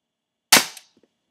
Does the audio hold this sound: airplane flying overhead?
no